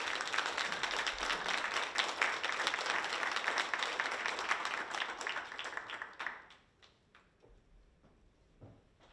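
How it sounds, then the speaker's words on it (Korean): A lecture hall full of people clapping steadily for about six seconds to welcome a speaker, then the applause fades out to a few scattered claps and quiet. "모두 큰 박수로 맞이해 주시기 바랍니다"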